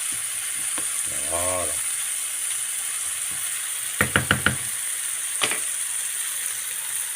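Leeks cooking in a pan give a steady sizzle throughout, broken by a quick run of four sharp knocks and a later tap, with a brief voice speaking over it.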